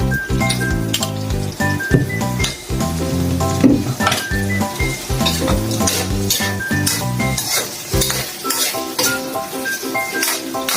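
Chicken pieces added to a hot pan for Filipino kare-kare, sizzling and frying with frequent stirring and clinks of a utensil against the pan, fairly close and continuous.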